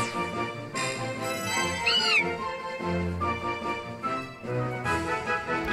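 Electronic Skitty cry from the Pokémon X video game, a synthesized cat-like meow with a rising and falling pitch sweep, loud and clear over the game's continuous background music.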